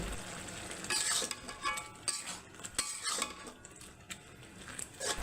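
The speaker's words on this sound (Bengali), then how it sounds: "পাট শাক আর ডালের মধ্যে রসুনের বাগারটা ঢেলে দিচ্ছি দিয়ে একটু নাড়াচাড়া করে নিচ্ছি" A garlic tempering is poured into cooked jute leaves and lentils and stirred, giving soft sizzling with irregular spoon scrapes and light clinks against the pot, close but fairly quiet.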